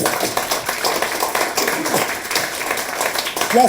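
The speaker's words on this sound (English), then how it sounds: "Round of applause, please." An audience at a bookshop's Christmas balloon debate breaks into applause, a dense spatter of many hands clapping at once. It stays fairly even for a few seconds, and a brief voice rises near the end.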